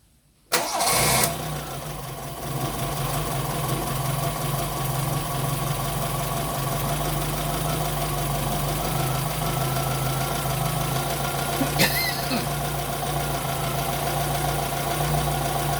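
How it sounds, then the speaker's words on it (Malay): A Toyota Corolla EE90R engine cranks and catches, then settles into a steady idle with a low hum and a slight shake, heard close for over ten seconds with no talking. "engine masih oke"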